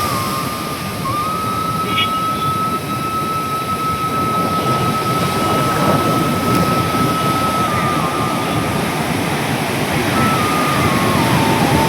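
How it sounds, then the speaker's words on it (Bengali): Big ocean waves crash continuously onto a beach in Kerala, a loud, steady roaring wash of surf with no pauses, joined by a faint high whistle and no speech. "কি বড় বড় ঢেউ আসছে"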